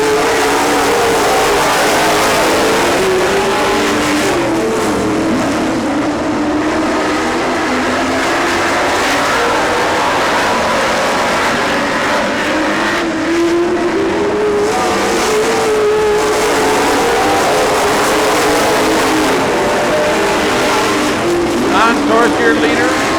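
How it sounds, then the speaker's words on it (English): Race cars circle a track on lap 1, a loud, continuous engine roar with rising and falling pitch as cars pass, while an announcer talks over the noise. "Don Source will lead lap 1."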